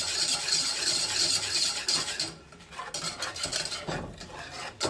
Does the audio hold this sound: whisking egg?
yes